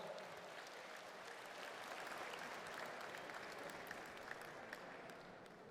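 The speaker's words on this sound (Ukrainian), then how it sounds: "Давайте ще раз підтримуємо оплесками обох учасників." Steady applause from a live audience after a professional sambo league bout, dense and continuous clapping heard from a distance and fairly quiet, with a faint crowd murmur beneath.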